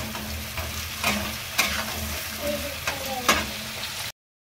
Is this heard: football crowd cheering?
no